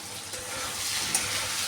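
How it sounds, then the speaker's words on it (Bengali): Potatoes fry in a pan with a pinch of turmeric and salt, giving a steady, close sizzle with soft stirring scrapes and no voices. "আলুটা লাল করে ভাজা হয়ে যাক"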